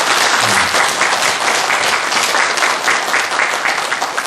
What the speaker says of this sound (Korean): 스님들 공부 잘하시라고 박수 한번 쳐드립시다.